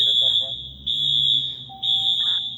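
Inside Roxbury Crossing subway station a fire alarm blares in long, shrill pulses separated by brief pauses, loud and close, while faint other tones and low ambient hum sit beneath.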